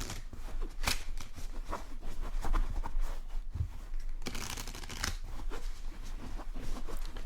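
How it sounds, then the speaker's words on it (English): Playing cards shuffled by hand on a casino blackjack table in a plain table shuffle, giving steady soft papery riffling and scraping close up, with brief louder bursts and no talk. "Giving them a very generic casino table table shuffle."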